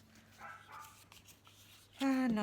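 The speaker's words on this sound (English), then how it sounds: "Of course, she wants to bark." A pet dog indoors gives a single loud bark near the end of a quiet stretch with faint background sounds.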